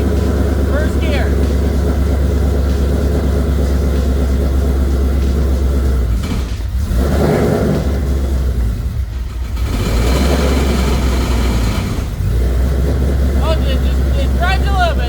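A Shelby GT500, fresh from a clutch install, idles with a deep steady engine rumble, then pulls off in first gear with brief swells in the engine note while people talk nearby.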